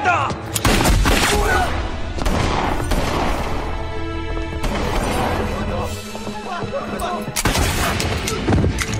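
Loud, heavy gunfire in a tense 2017 spy-film scene, a series of booming broadband shots and bursts in close succession that fill the scene, with dramatic sound around them.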